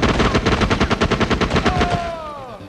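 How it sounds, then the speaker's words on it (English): Rapid automatic gunfire from the video game SOCOM II or Counter-Strike, a fast, loud stream of shots that stops abruptly, followed by a brief ringing whine. "both games have really good weapon sounds"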